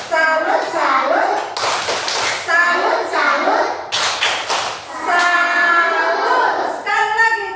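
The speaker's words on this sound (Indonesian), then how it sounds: "Tepuk tangan salut dulu untuk kita semua." Children in an Indonesian classroom clap their hands in a patterned cheer, bursts of clapping alternating with loud chanting voices close by.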